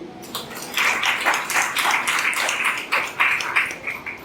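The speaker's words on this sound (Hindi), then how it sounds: "ताली बजाइए।" A church congregation clapping their hands together. Quick, uneven rhythmic claps from many people are heard close by at moderate volume.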